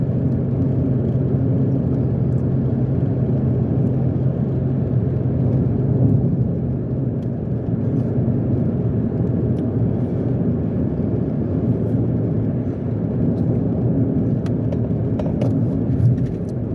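A Mitsubishi Mirage with a CVT climbs an interstate hill, its small engine droning at steady elevated revs under continuous road and wind rumble from inside the cabin, with no talk.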